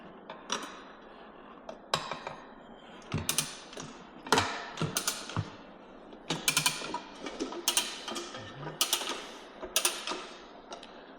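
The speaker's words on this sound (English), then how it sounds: "we can start to ratchet the tire off the wheel" A Rabaconda street tire changer ratchets a motorcycle tire off its wheel with sharp, repeated metallic clicks in irregular bursts, close and crisp, with no talk.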